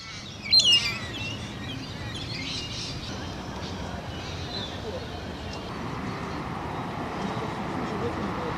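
Birds, including parrots, calling in a city park: a sharp chirp burst early, then softer scattered calls over steady distant traffic hum and outdoor ambience.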